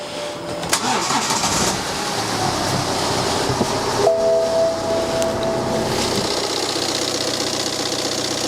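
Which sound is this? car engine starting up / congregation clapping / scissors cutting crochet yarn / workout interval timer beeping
car engine starting up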